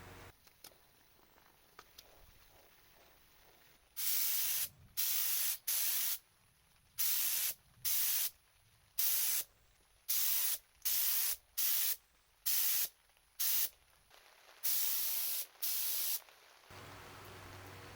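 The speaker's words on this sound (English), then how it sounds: "My first spray on the fuselage was on the turtle deck" A spray gun applies blue paint to the turtle deck of an RC plane fuselage in a series of about a dozen short, loud hissing bursts with brief silent gaps, followed by one longer spray.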